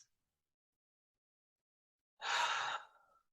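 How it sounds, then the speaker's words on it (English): A single slow breathing-exercise exhale blown out through pursed lips, soft and airy, rising suddenly after silence and trailing off over about a second. "exhale, release, blow it all out through the mouth, through those pursed lips"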